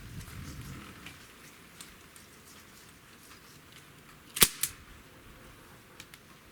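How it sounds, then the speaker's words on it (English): Trigger pull on a SIG Sauer MCX rifle measured with a trigger gauge: a sharp, close metallic click followed quickly by a second fainter click, set against a quiet background hiss. "now we're going to try the trigger pull real quick on the MCX"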